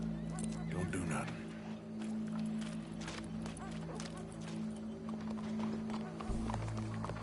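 Horse hooves clip-clop in Red Dead Redemption 2, a steady rhythm of fairly close steps heard under ongoing talk, with a low engine-like hum running beneath.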